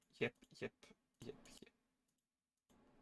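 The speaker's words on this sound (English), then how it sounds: "you can hear my keyboard" A few quick bursts of clattering keyboard keystrokes close by, then a pause and a soft, low rustle at the end.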